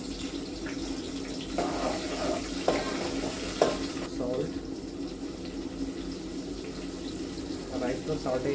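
Chopped onions fry and sizzle in a hot pan in a home kitchen, a steady close crackle with stirring scrapes and a few sharp clicks, under faint background noise.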